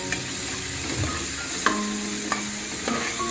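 Onions browning in a hot pan sizzle steadily while a spoon stirs them, with a few sharp scrapes and clinks against the pan.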